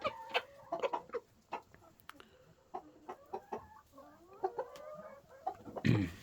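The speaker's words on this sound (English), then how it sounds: "he's a pretty cool rooster" A Silkie rooster clucks in short, irregular bursts, close by, with a louder squawk near the end.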